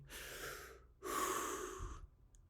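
A person breathes slowly and calmly, two long airy breaths close to the ear, a softer inhale followed by a fuller exhale, then quiet.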